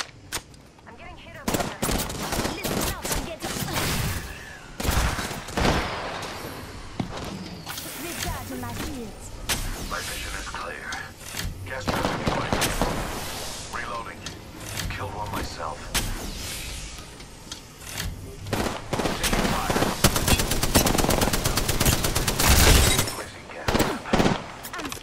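Rapid bursts of shooter video game gunfire crackle throughout, dense and loud, mixed with game voice callouts and effects.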